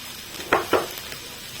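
Grated carrot and chopped onion are stirred in a frying pan, giving a soft sizzle beneath two distinct scraping strokes and a faint third one near the end.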